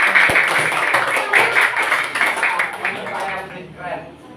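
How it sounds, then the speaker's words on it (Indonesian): Classroom of students applauding a presenting group, a steady dense patter of many hands clapping at moderate distance, sustained for several seconds before thinning slightly, with voices mixed in. "Tepuk tangan untuk kelompok 1."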